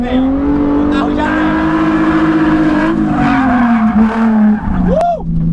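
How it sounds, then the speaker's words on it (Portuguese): A Nissan 350Z drifting in second gear, its engine holding a loud, steady drone while the tires squeal in long sliding wails, close and intense, with a short rising chirp near the end and a voice talking underneath. "Vocês vão ver como o carro é bom de fazer drift, mano."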